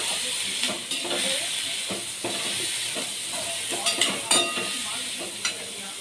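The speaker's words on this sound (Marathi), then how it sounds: "आता फ्लावर टाकून चांगलं मिक्स करू आणि मीठ टाकून देऊ." Cauliflower florets sizzle and hiss in a hot pan while being stirred and salted, a steady frying crackle with scattered scraping strokes of a spoon, close and continuous.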